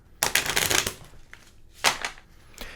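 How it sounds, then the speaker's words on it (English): Paper index cards printed with word roots and affixes are shuffled in two quick riffling bursts, crisp and close, with a faint tap in between. "Let me shuffle up some right now."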